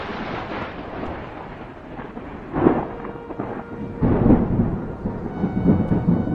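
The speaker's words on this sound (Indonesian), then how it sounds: "sebuah badai dahsyat menakutkan datang dengan petir dan kilat" Deep rolling thunder rumbles in several bursts over a steady hiss of heavy rain, with no voices present.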